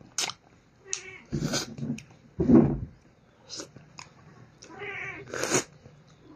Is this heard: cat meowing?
yes